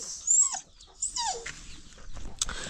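Indoors, a dog whimpers in a few high, thin whines with short gaps, close and fairly loud, with a small yip near the end.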